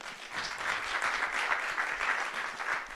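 Audience at a student transfer forum claps for a panelist, a steady wash of applause from a room of people lasting the whole three seconds, moderately loud with no talking over it.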